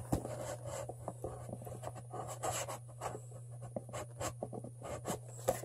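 Tape on a package being slit open, a dry scratchy scraping made of many short rasping strokes at close range, with a steady low hum underneath.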